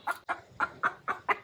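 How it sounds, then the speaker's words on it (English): A pet hen clucks six times in a quick, evenly spaced series, each cluck short, sharp and close, with no voices over it. "I want you to meet my pet chicken."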